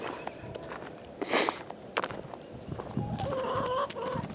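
Chickens cluck and call softly nearby with scattered footsteps and rustling around them, and one louder squawk stands out partway through.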